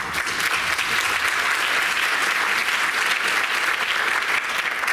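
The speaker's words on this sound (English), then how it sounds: "Let's give yourself a round of applause" Steady round of applause from an audience of scholarship recipients and parents at a high school senior achievement ceremony, dense and even throughout without a break.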